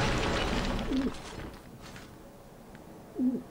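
A bird cooing in the video game Dark Souls: two soft, low coos about two seconds apart over quiet ambient background noise.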